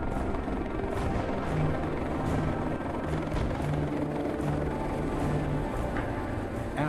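Marine One, the US presidential helicopter flown by Marine crews, drones steadily with a low rotor hum and broad engine noise, continuous and moderately distant throughout with no voices.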